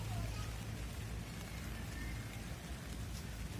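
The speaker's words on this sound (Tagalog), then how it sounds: "Kaya umuulan." Rain patters steadily at an outdoor construction site, a soft, constant hiss of drops with low background rumble and no distinct voices.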